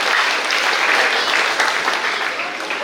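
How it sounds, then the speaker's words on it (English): A gym audience at an 8th grade commencement ceremony gives sustained, even applause that stays loud and dense from start to finish before easing slightly. "Give them a round of applause, please."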